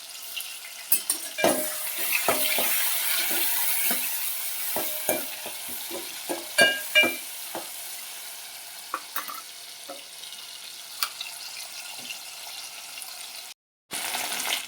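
Tomatoes mashed and stirred into a frying spicy black chicken curry (kala chicken rassa): a steady oil sizzle under repeated scraping spatula strokes and soft clinks against the pan, close and continuous, with no voices.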